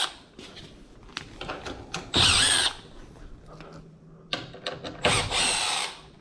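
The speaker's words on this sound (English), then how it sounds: "So I'm going to take out this middle screw on all the hinges." A power drill backs a screw out of a door hinge during a flat-jamb door install, in two loud whirring bursts of about half a second each, with lighter handling clicks and taps between them and no talk.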